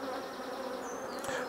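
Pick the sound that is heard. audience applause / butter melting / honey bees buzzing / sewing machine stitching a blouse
honey bees buzzing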